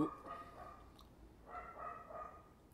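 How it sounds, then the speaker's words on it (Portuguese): A dog barks faintly off in the background, a few soft, distant barks in quick clusters over low room noise. "não para de latir aqui"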